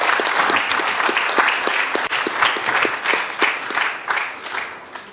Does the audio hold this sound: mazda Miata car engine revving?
no